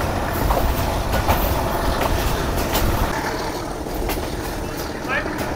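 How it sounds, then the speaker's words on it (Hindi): Aboard the Attock Safari Train, an HBU20 locomotive rumbles steadily as it picks up speed after slowing, with a dense, continuous roar of rolling wheels and faint rail clicks throughout. "स्लो होने के बाद अब दोबारा HBU20 जो है वो घुर्रा रहा है और स्पीड बढ़ रही है"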